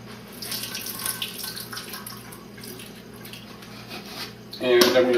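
Water runs steadily from a sink tap into a kitchen basin for rinsing, a gentle continuous splash that swells louder near the end, with a person talking over it.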